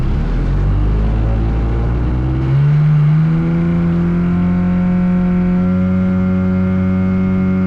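A motor glider's engine drones steadily during the climb, with a loud, close, sustained tone that shifts pitch partway through and then holds even.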